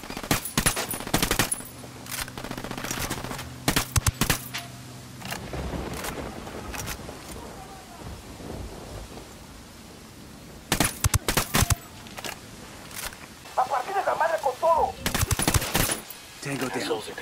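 Automatic gunfire in the tactical shooter Ghost Recon Wildlands, fired in several sharp rapid bursts separated by quieter stretches of game ambience, loud and close.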